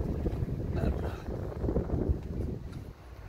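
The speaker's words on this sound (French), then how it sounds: "je sais pas si vous allez m'entendre parce qu'il y a beaucoup de vent" Steady wind buffets the microphone with a low, blustery rush throughout, outdoors beside a camper van.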